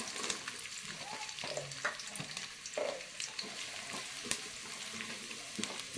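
Chopped onion drops into hot oil in a pot over a wood-fired stove, giving a steady close sizzle and crackle with occasional stirring scrapes throughout, no voices.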